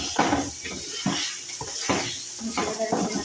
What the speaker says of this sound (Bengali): এরপরে ভালো করে একটু নাড়াচাড়া করে নেবেন মশলাটা।